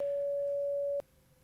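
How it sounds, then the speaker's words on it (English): A modular synth oscillator gives a steady, pure, phone-like tone that holds evenly for about a second, then cuts off abruptly with a small click into near silence. "I have apparently made a phone call noise"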